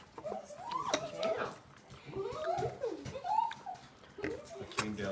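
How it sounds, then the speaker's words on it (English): A pet dog whines in repeated high, wavering whimpers, several drawn-out cries with short pauses, close by in a home. "That's my dog whining in the background."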